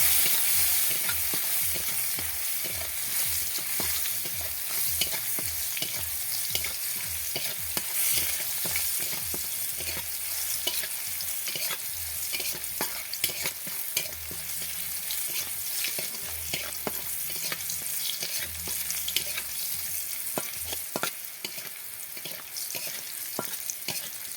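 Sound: garlic frying in oil with turmeric

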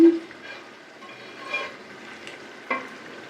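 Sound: pomfret fish sizzling as it is added to the frying pan

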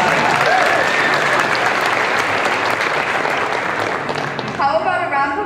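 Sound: audience applause for prom models

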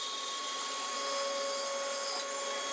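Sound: band saw cutting plywood with a sled

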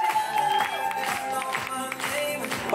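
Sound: audience applause at a dance flashmob

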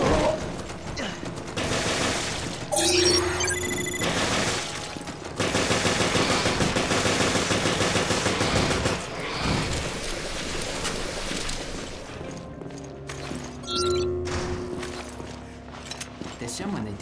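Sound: gunfire in Resident Evil Revelations video game

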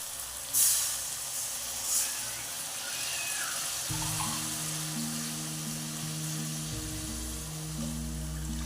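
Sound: water poured into hot pan

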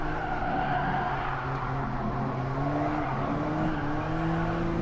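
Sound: Alfa Romeo 4C tires skidding as the rear slides out, in GT Sport video game

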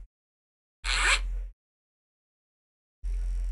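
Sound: voice imitating a zipper in an imitation video game

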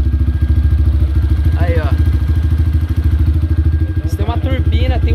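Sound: Pop 128cc motorcycle engine running, with SM Race camshaft

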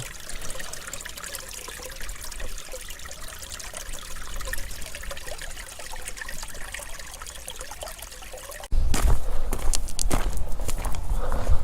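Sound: water trickling down a stream at a temple

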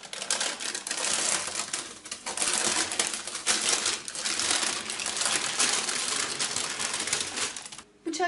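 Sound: peeling baking paper off a cooled chocolate sponge cake

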